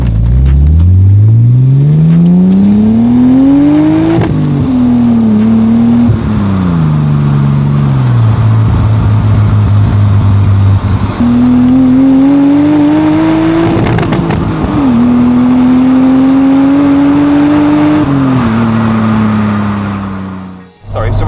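A Nissan Skyline R34 GT-R replica's engine revs up and down repeatedly through a fairly quiet exhaust, a loud, deep rising and falling drone that rises through gear changes before cutting off.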